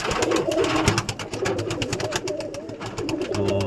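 Pet pigeons coo inside a netted loft, with several birds producing overlapping low rolling coos and soft wing flutters up close, and no voices heard.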